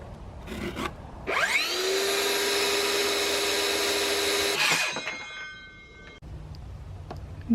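A power saw cuts wooden boards to length for a DIY porch sign, with a loud, steady whine for about three seconds before spinning down, bracketed by a few quieter knocks of handling.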